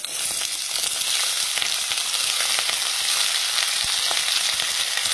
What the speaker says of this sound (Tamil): இதையும் போட்டு எண்ணெய் நல்லா தோவலா வதக்கிறோமா